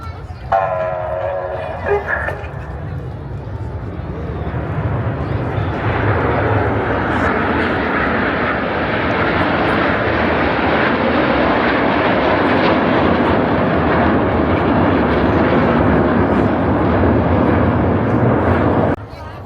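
Red Arrows aerobatic jets flying in formation over the Blackpool airshow, a broad, sustained jet roar building after a brief opening and holding steady at a strong level before cutting off near the end, with no talk over it.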